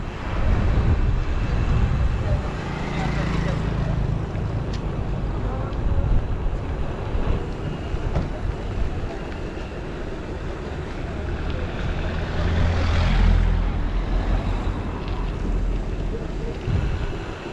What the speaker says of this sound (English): So wind's picking up, and favourable most of the time.